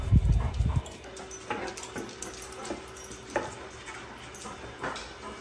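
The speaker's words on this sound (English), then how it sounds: "I need to hang out with the dogs a little bit outside because they're going nuts inside." Dogs indoors, with a louder burst of barking at the start followed by scattered soft whimpers and light thumps or clicks spread across the rest, fairly close by.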